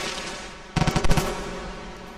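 An explosion in the video game Rain World, a sudden loud burst of several sharp, crackling blasts lasting about half a second against a steady background hum.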